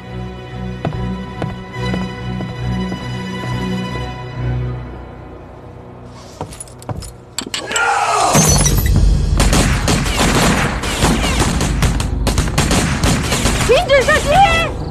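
Heavy gunfire erupts in an anti-Japanese war film sniper scene: after quieter dialogue and music, dense volleys of rifle and machine-gun shots with crashes and booms fill the soundtrack loudly and continuously.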